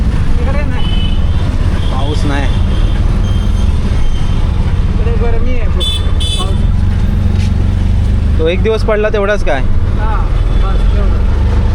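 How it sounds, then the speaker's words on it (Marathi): Continuous engine drone and road noise fill an auto rickshaw ride through Nalasopara street traffic, loud and steady, with horns and passing vehicles over it as passengers chat throughout. "आता रिक्षा पकडलं आहे, घरी जाऊया."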